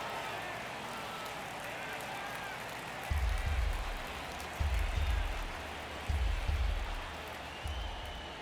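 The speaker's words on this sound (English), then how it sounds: "Crowd locked in right now." A baseball stadium crowd in MLB The Show 23 keeps up a steady roar, broken by deep rhythmic thumping bursts roughly every second and a half, all at moderate loudness.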